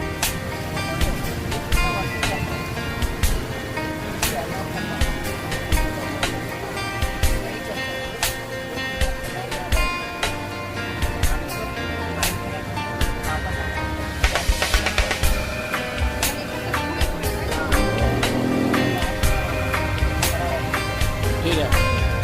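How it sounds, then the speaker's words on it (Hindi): A boat engine drones steadily and loudly throughout on a sea trip in the Andaman Islands, with rumbling wash, clattering knocks and people talking over it. "इंजन का आवाज हो रहा है ना"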